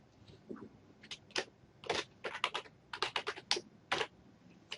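Bursts of keystrokes on a computer keyboard while a file name is typed into a spreadsheet header, arriving in quick irregular clusters of sharp clicks with short pauses between them, close and moderately quiet, with no voice.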